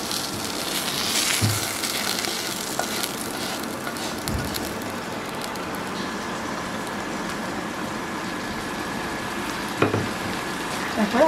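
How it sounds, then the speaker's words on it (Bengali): Hot oil tempering with browned fried garlic and chilies is poured into pickle, giving a rough, crackling sizzle that runs continuously up close, with a few sharper clinks and bursts near the start and end. "এবার সেই আচারটার মধ্যে আমি এই ফোড়নটা ঢেলে দিচ্ছি।"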